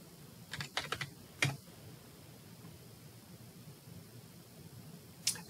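Fingers tap a computer keyboard in a quick cluster of crisp keystrokes, a firmer single press, then quiet room hiss and one final key press, close and faint.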